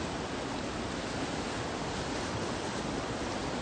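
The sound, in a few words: flooding Ujh river water rushing near bridge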